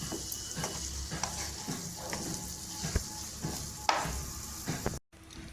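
Potato bhaji with fresh coriander being stirred in a pan, a steady sizzle with scraping spoon strokes at a fairly even pace, close and alone, with a brief dropout near the end.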